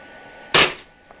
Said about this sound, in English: This time the bullet punched through one, two, and cracked the third one.